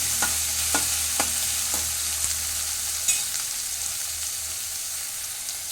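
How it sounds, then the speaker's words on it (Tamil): Tomatoes cooking in a pan for a tomato-fenugreek curry, a soft continuous sizzle with a few sharp spoon taps and stirring scrapes early on, then a steady frying hiss alone. "தக்காளியும் சேர்த்து இதில் நல்லா கிண்டி வேக விடணும்"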